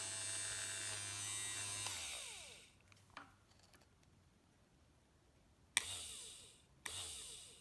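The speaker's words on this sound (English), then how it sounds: "It spins the motor, and then the power to the glow plug lights the glow plug, and away it goes." An electric starter whirs against a glow plug model engine, a buzzing motor spinning for about two seconds, then cutting out with short bursts and clicks after a quiet pause.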